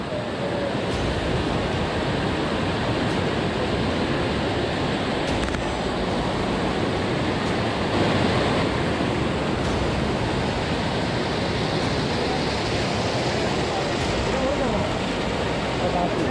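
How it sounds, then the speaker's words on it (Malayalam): Vellarimala waterfall rushing steadily, a dense broadband roar of falling water that stays loud and even throughout, with wind buffeting the microphone. "ലെഫ്റ്റ് സൈഡിലാണ് വെള്ളരിമല വെള്ളച്ചാട്ടം"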